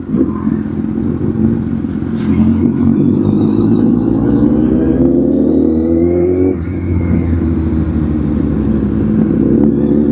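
A Kawasaki Z800 motorcycle engine drones loudly and steadily during a ride, heard close as if from inside the helmet, with rising and falling revs and a brief dip before it climbs again.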